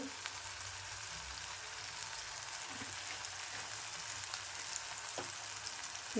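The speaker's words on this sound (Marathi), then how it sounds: "मी थोडंसं हिंग टाकते" A pinch of asafoetida hits hot oil in a pan of softened tomatoes for tempering, giving a steady, fairly faint sizzle with a few soft pops and no voices.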